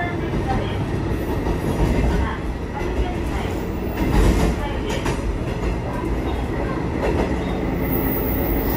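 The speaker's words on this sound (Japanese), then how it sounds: "この列車は進んでいきます" A diesel local train runs along electrified track on the Hisatsu Orange Railway line in Kagoshima, giving a steady rumble with faint rhythmic clatter throughout and a brief louder surge midway, with some background voice.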